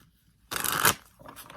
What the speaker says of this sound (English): I'm just going to do a quick shuffle of these.